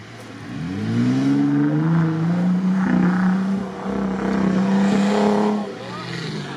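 A UAZ off-road vehicle races on sand, its engine revving up loudly and holding a strained, rising whine, then easing and surging again. A faint voice can be heard in the background.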